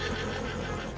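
A horse neighs in the Red Dead Redemption 2 video game after being shot in the rump, a loud, close whinny that fills the whole second with no talk over it.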